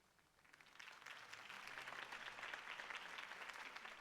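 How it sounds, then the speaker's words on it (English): Steady crowd applause at a political campaign speech in Batman: The Telltale Series swells in over the first half-second and continues as a dense, even wash of clapping throughout. "If only Mr. Wayne, my campaign's largest backer, could have heard that applause"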